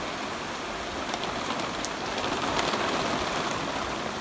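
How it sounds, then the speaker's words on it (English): Steady outdoor rain falling on a rural pasture near a house, a dense continuous hiss of drops with occasional sharper individual splashes, even and fairly close, with no talking. "it's a nice rain."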